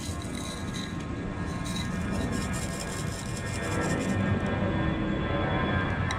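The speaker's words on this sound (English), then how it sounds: "You have to excuse the airplane" An airplane passes overhead near DFW airport, heard outdoors in a suburban setting as a faint, broad engine rumble that swells slightly toward the end, with no talking.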